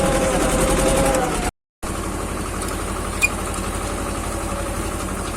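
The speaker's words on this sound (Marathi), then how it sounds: "ट्रॅक्टर चालते या अवजारावरती" A tractor engine running steadily up close, a low throbbing drone that cuts out briefly and then continues.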